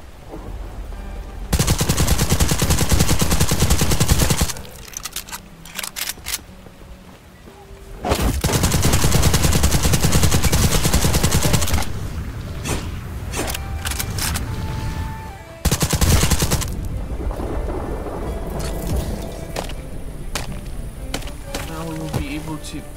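Bursts of rapid SMG gunfire in the Black Skylands video game, loud, long sustained volleys broken by short pauses, clicks and scattered shots, with no talk over it.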